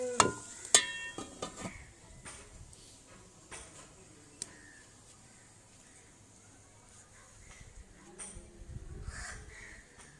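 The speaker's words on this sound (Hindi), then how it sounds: "अब इसको दही में पकने देंगे, 2 मिनट तक ऊपर से दम लगा देंगे।" Village-style chicken korma cooks in yogurt in a pot, giving a faint soft bubbling and sizzle with scattered clinks and ticks of a utensil, louder near the start then settling quiet.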